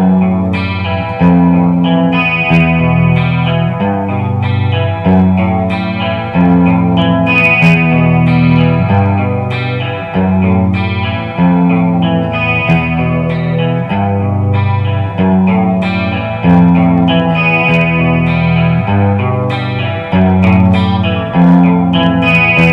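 A distorted electric guitar plays a slow, repeating riff with heavy effects, sustained notes ringing out one after another.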